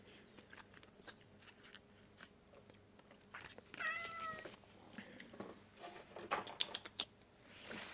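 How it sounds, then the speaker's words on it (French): A cat gives a short, faint meow in a quiet room, with soft tapping and rustling around it. "Le chat qui miaule."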